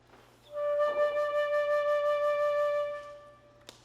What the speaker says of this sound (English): Just on the flute it kind of sounds like this.